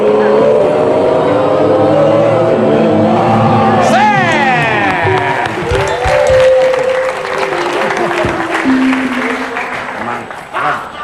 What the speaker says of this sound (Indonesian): Tepuk tangan sekali gitu.